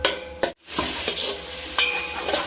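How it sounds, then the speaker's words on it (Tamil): Tomatoes sautéing in a pan for a Kayal-style vegetable kalari curry, a steady close sizzle broken by a few scraping stirs and one brief clatter. "இப்போது இது எல்லாமே நல்லா வதங்கணும் தக்காளி நல்லா வதங்குற வரைக்கும்"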